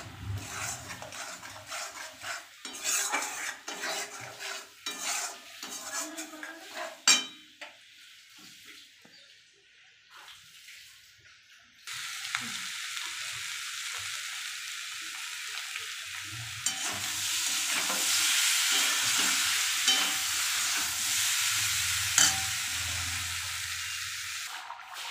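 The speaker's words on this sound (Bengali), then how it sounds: "তেজপাতা আর গোটা গরম মশলা দিয়ে, জিরে হলুদ নুন দিয়ে কষাচ্ছি।" Bay leaves, whole garam masala, cumin, turmeric, salt and a little chili powder being stir-fried in a pan for a vegetable curry, with a steady close sizzle and spatula scraping that grows louder and denser in the second half. No talking.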